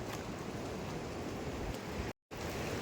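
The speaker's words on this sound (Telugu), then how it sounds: "వర్షం అయితే మళ్ళీ స్టార్ట్ అయింది" Steady rain falls near Sonprayag as a continuous, dense hiss with no voices, briefly cut off by a short silent gap.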